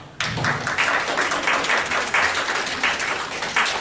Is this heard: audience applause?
yes